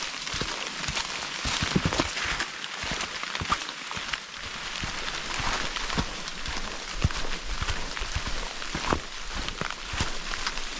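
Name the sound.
heavy rain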